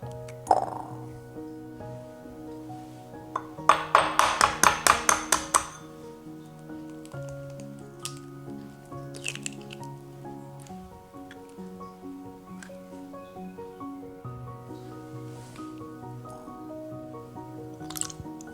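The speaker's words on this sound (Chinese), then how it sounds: "首先我们分开蛋清和蛋黄，干净的小碗呢，一个个分开" Eggs are cracked and whites separated from yolks into clean small bowls, one at a time, giving soft taps, drips and glassy clinks against a quiet background, with a burst of rapid clicking knocks partway through.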